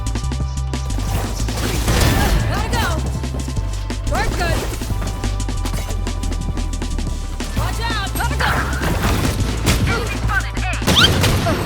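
Gunfire in the video game Valorant, with repeated shots and short bursts popping over a low hum while someone talks across much of it.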